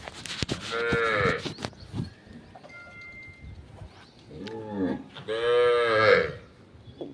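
A cow in heat on a farm lets out two long, loud moos close by, one early and one later, with quieter rustling and faint farmyard sounds between them.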